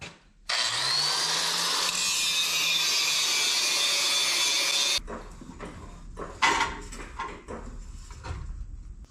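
Power grinding on the metal edges of a 1966 Chevy dually truck bed being shortened, a loud steady whine for several seconds that cuts off, followed by scattered clanks and scraping in a workshop.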